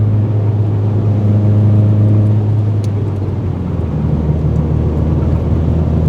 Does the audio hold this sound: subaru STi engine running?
yes